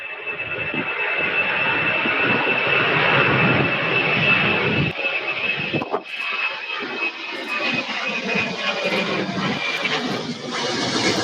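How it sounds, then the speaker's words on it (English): A Boeing 767 jet takes off at Louisville airport with a loud, broad engine roar and a high whine. The roar rises, then fades somewhat as it moves away. "we have 767 taking off, everybody"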